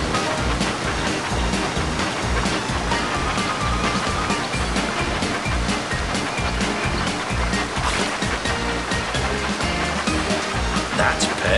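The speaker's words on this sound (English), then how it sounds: "Help your engine avoid the rocks in the wild water slide at Waterslide Mountain." Rushing water from the wild water slide in the Thomas & Friends Magical Tracks game, a dense, continuous loud wash with rhythmic thumping game sounds underneath, steady throughout.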